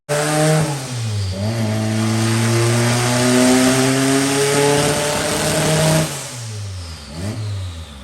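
A car with a FuelTech engine management setup revs hard and rips, its engine loud and close, climbing in pitch through long pulls, dropping between runs and rising again.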